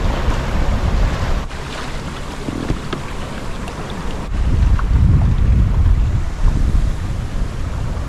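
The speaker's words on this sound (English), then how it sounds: "Yeah, the wind's picked up." Strong wind roars and buffets the microphone aboard a sailboat under sail with no engine running, with waves and water rushing along the hull throughout, swelling louder in the second half.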